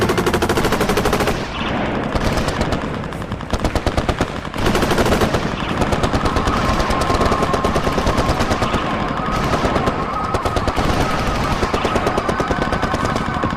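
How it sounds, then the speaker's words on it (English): Sustained machine gun fire from a guerrilla ambush on December 5th, loud dense bursts of rapid automatic shots rattling almost continuously, with brief dips between volleys and no speech. "In a matter of seconds, a hurricane of bullets."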